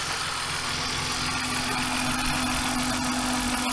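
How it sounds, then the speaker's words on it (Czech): A BMW E46 323 six-cylinder engine idling steadily up close, a smooth, loud, continuous rumble with an even low hum and no change in pace. "Pořádný šestiválcový motor."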